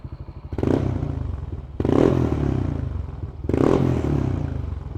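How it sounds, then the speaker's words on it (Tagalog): Yamaha NMAX scooter fitted with a Racing Boy exhaust, idling loud and close with three sharp revs, each swelling and then easing back to a steady, rumbling idle. "Oh, exhaust sound, tunog."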